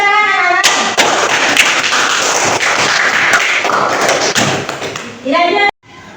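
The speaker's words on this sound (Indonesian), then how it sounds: "kasih tepuk tangan anak-anak" A class of fourth-grade children claps hands together in a dense burst of rapid, loud applause lasting several seconds, preceded and followed by a teacher's voice.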